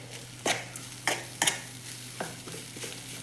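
Gooseberry rice mixed in a pan gives several distinct scraping strokes of a spoon, spaced irregularly, over a quiet background hum.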